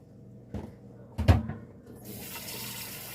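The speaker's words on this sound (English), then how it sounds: "I'm going to take this pan. It's going to go in the sink. I'm going to flood it with some cold water" Cold tap water runs into a pan in a kitchen sink, starting with a couple of clunks of the pan, then a steady moderate rush of filling water that continues to the end.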